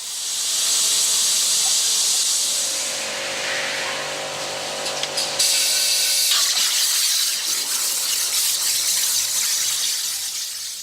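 A waterjet cuts 10 mm thick grade 37 steel parts with a loud, continuous high-pitched hiss and spray. A brief clatter comes midway, then the harsh rushing hiss resumes.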